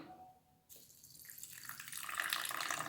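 Water pours into a bowl of soaking lentils with fennel and cumin seeds, starting after a brief quiet pause as a close, bright splashing trickle that grows steadily louder and fuller.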